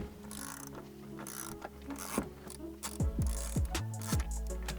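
Ratchet wrench loosening the suspension top hat bolts on a Tesla Model 3/Y, heard up close as quick repeated clicking bursts that tighten into a fast run of ratchet pawl ticks near the end.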